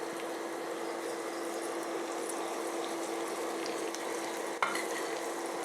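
Dried shrimp sizzling in hot oil in a pan, a soft, even hiss with a steady hum beneath it and one sudden clatter near the end, heard alone without talk.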